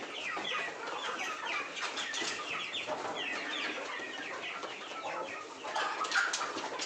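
Chickens, mostly large hens, cluck and squawk inside a coop at night, a dense overlapping chorus of close, agitated calls that keeps going throughout.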